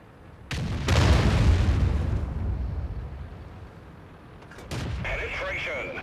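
Artillery fire in the tank battle game World of Tanks: a loud boom followed by a long rumbling decay, then a second, sharper blast with a metallic ring toward the end.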